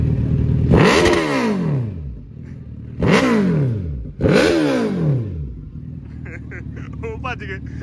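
A Suzuki Hayabusa superbike on a group ride gives three loud, close revs of its engine, each climbing sharply then falling away, with people talking between and after the revs.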